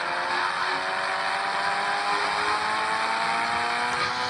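A toy car drives at speed with a continuous, steady whining motor hum, close and fairly loud, holding an even pitch throughout with no voices.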